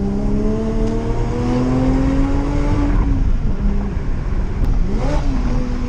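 A Porsche fitted with an Armytrix aftermarket exhaust drives close by, its engine note rising in steady harmonic pitch as it accelerates, then dipping and climbing again through a shift, loud and alone with no talking.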